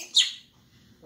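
A pet parrot gives a single short, bright chirp near the start, fairly close and clear, followed by quiet room sound and a faint low murmur.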